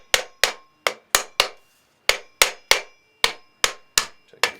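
A brass hammer taps a hot tub pump part into place, giving about a dozen sharp, close metallic knocks. They come in quick uneven groups with short pauses between, each ringing briefly before the next strike.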